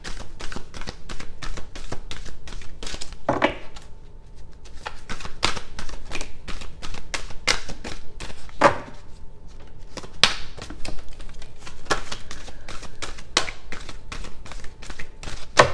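A deck of cards shuffled repeatedly by hand, a quick run of crisp riffles and taps in a steady rhythm, close and fairly loud, with no talk.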